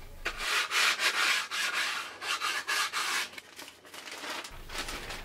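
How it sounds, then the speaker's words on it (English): Hand sanding of a spruce guitar top on a Yamaha SLG110N with fine-grit paper on a block, heard as close, rhythmic back-and-forth rasping strokes in quick bursts, with no talk. "Sanding the spruce down is done with a fairly fine grit paper used with a block, and you always go with the grain."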